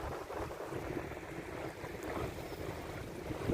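Steady, blustery wind roaring across open water at sea on a fishing boat, with low rumbling buffeting against the microphone and a constant wash of waves, no voices.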